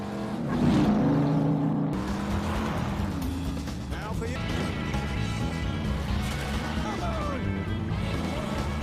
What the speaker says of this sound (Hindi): अब कैन रेस में उतर गया।